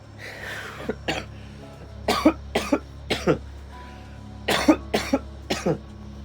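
A series of sharp, close coughs in short bursts, a pair, then a trio, then a longer cluster, with brief pauses between them.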